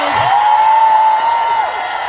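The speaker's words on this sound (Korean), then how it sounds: "큰 박수 한번 주시겠어요" A crowd at an outdoor spring cheering event applauds and cheers, broadband clapping filling the whole stretch, while a sustained whistle-like tone or whoop rises and holds above it.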